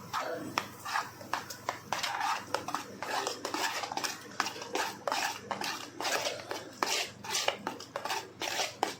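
Spoon stirring instant dhokla batter of semolina and gram flour with Eno and lemon juice in a bowl, irregular clinks and scrapes against the dish, close and fairly quiet.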